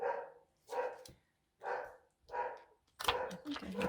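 Two pet dogs indoors bark in a series of five fairly close, evenly spaced bow-wows, the last ones sharper and more overlapping.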